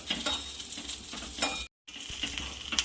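Moong dal vadis frying in hot oil with a steady crackling sizzle and occasional stirring, broken by a brief silent gap before the frying resumes.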